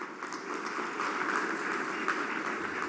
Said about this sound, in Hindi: तो सबसे पहले उन सभी के लिए जोरदार तालियां